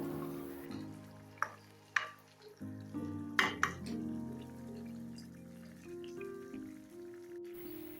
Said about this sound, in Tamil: குழம்பு நல்லா கொதிச்சு நல்லா வாசனையாக இருக்குது